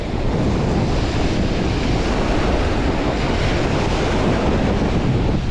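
Waves wash continuously onto the Lake Erie shore at Walnut Beach, a loud steady roar of surf mixed with heavy wind buffeting the microphone.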